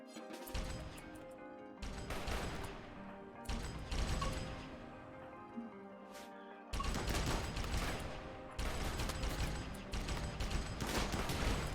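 Crank guns in RimWorld rattle off in dense bursts of rapid gunfire, loud and broadband, with brief lulls between volleys before heavy firing resumes and runs to the end.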